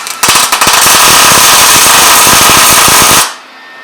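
A wire-feed welder tack welding a post hole digger, crackling with a loud, rapid, chattering buzz for about three seconds before cutting off, close up and alone.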